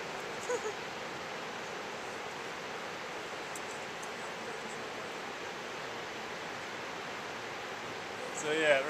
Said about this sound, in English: Look at the rush of water coming out.